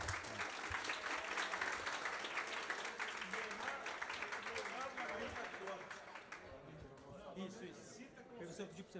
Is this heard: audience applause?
yes